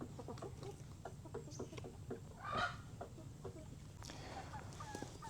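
Free-range village chickens cluck in short, scattered calls at moderate distance, with one louder squawk partway through and soft farmyard background, no talk.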